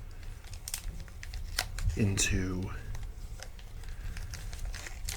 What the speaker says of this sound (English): Hopefully the sound of the foil is nice for you all.